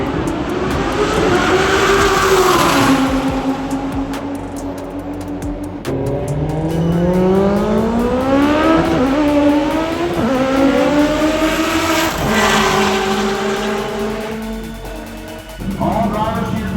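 Two Audi R8 cars drag racing at a street car event, with loud engines revving hard through rising gear sweeps, shifting several times as they pull away close by, with tire noise.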